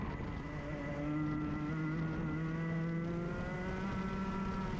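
A Rotax kart engine drones at a distance, its pitch rising and falling steadily as it revs, with no voices.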